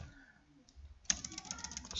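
Soft keystrokes on a computer keyboard tap at a quick, uneven pace, faint and close, with a sharper click where the typing picks up.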